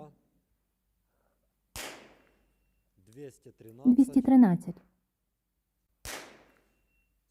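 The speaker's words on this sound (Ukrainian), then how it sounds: "Все, 5 пострілів зроблено." Shots fired at a target from a SEM RS-1.1 rifle: two sharp, loud single cracks several seconds apart, with someone speaking briefly between them.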